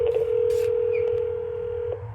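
A FreePBX door phone on a home phone system gives a call tone: one steady, fairly loud electronic tone held for nearly two seconds, with faint clicks at the start and end.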